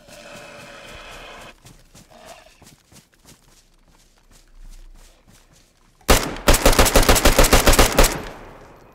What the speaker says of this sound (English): Did you hear those shots?